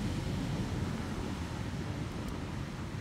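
Wind buffets the microphone on a deserted beach with big waves, a continuous low rumbling blow that stays steady and fairly close throughout, with no talking.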